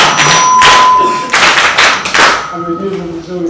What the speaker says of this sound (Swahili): Safi, mpigeni makofi.